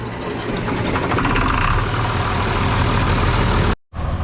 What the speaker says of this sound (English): We're gonna let the tractor run as he goes to lunch for a little while.